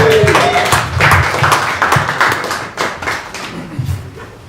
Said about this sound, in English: let's all give a big round of applause for Israel.